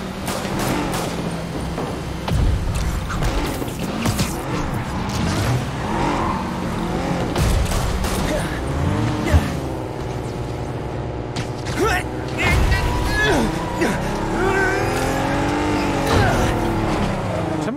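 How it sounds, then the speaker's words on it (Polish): A car accelerates and skids in the video game Marvel's Spider-Man, with engine roar and squealing tyres surging under game dialogue and shouting. "Jak zatrzymujemy te auto, to ono przyspiesza."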